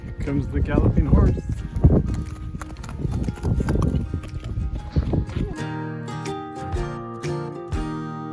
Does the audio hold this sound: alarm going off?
no